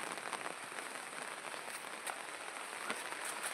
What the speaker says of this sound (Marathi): पाऊसच पडणार आहे